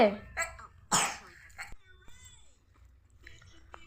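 A young girl sick with fever coughs several times in short, harsh bursts, close and fairly loud, with quieter throat sounds and faint room noise between the coughs.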